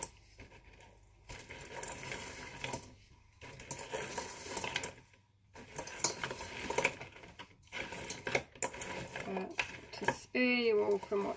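A utensil scrapes and clinks against a pot while goat milk is stirred for chamomile soap, irregular metallic stirring taps and scrapes with brief pauses, fairly quiet and close.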